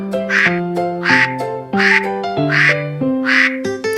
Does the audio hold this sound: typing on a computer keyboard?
no